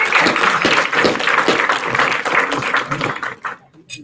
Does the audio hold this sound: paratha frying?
no